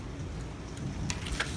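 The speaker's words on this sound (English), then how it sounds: "there is currently heavy rain. Thunder outside." Heavy rain pours steadily during a thunderstorm in Oviedo, Florida, a dense wash of noise with low rumbling underneath and a couple of brief louder splashes near the end.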